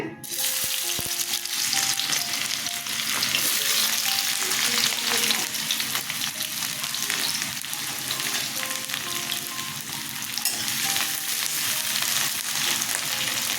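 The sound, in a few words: onions frying in hot mustard oil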